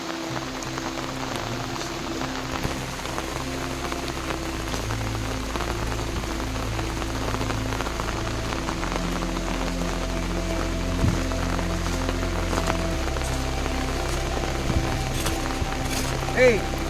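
Steady rain falls on surfaces in a village, a continuous patter with scattered heavier drops, while a voice talks over it and a low musical drone runs underneath.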